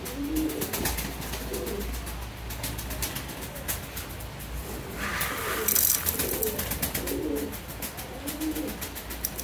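Domestic pigeons kept in a loft with many young birds coo in soft, repeated low calls that recur in a steady rhythm, close by, with no voices.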